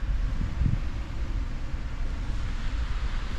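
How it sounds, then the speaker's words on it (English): Steady wind buffeting a microphone on a beach at sunset, heard from the back of a truck bed, a continuous low rumbling roar with gusty swells throughout and no talking. "It's too windy outside"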